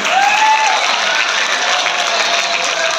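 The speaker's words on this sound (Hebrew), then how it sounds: "מחיאות כפיים לכולם." A crowd at a school end-of-year party breaks into loud, sustained applause, dense and even throughout, with a brief voice heard at the start.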